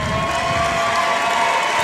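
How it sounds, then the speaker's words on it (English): Basketball fans at a high school semi-state championship game stand and applaud a departing senior player, a broad, steady wash of cheering and clapping filling the gym throughout. "I will give credit to the Blackhawk fans for standing up and applauding him as he came off the floor for his final time"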